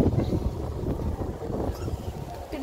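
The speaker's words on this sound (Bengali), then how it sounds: "বাতাস করতেছে" Wind gusts hard during a rain shower, a low, rumbling roar buffeting the microphone close up, steady for a few seconds with no speech.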